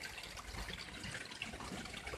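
A small waterfall and trickling stream in a seaside cave on Tenerife make a faint, steady, even wash of running water, heard alone without voices.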